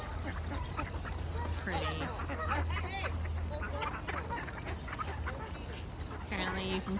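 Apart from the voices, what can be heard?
ducks and other birds at a conservation area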